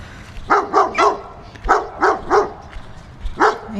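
Several puppies bark in quick bursts at a delivery drop-off, about seven sharp yaps in uneven clusters, close by and loud, with no talk over them.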